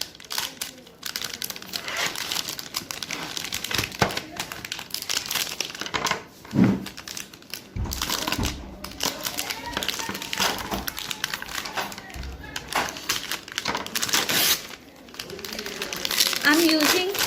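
Morde milk chocolate being chopped with a knife, close crinkly crunching cuts that come in bursts, with a voice talking at intervals.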